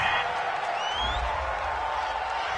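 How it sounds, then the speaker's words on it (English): In a video game football broadcast, a home crowd cheers and whoops in a dense, steady wash of noise from the stands that carries on throughout without breaks. "This home crowd, they're happy with that call."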